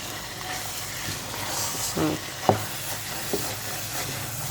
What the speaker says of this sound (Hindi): ये सारा प्याज इसमें ऐड करेंगे।